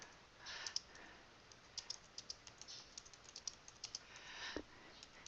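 Fast typing on a computer keyboard, a quiet run of light clicks and key taps in uneven bursts over faint room noise, with one slightly louder thump near the end.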